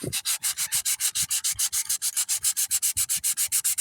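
Fiberglass boat repair on a swim platform is hand sanded with 100 to 120 grit sandpaper in quick, steady back-and-forth rasping strokes, close and even, with no voices.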